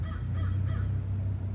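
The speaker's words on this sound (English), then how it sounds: "Thank you for that message, Crow." Outdoors, a crow gives three quick caws in succession, moderately distant over a steady low hum.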